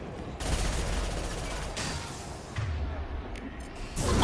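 Gunshots in the sci-fi shooter Mass Effect 2 Legendary Edition: a sustained burst of rapid fire with booming impacts, a pause, then more shots, close and loud.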